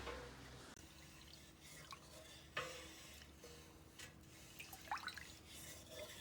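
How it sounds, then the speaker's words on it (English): A spoon stirs honey into a dandelion wine mixture, giving soft intermittent scrapes and wet swishes with faint drips, quiet and close, with no talking. "we're just going to make sure all this is mixed"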